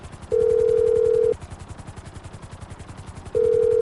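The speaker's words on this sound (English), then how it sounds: "I'm going to pull up my phone, and I'm going to call Pavel" Phone calling out in the video game GTA V, two loud steady ringback tones separated by a pause, with a low rumble of game background underneath.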